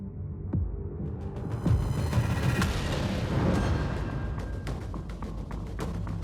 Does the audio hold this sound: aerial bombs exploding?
yes